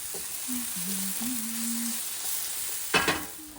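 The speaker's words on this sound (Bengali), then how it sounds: "কাঁচা টমেটো, কাঁচা রসুন দিয়ে দিলাম, হালকা একটু ভেজে জল দিয়ে দেবো।" Raw tomato and garlic sizzle lightly in a pan, a soft steady hiss with a brief clattering of stirring near the end.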